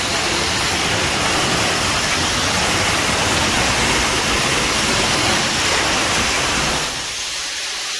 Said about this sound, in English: You spray your building down real good.